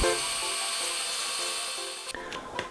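A Pneutorque pneumatic torque multiplier runs on a nut with a steady, close whirring drone that cuts off near the end, leaving a few brief clicks and knocks.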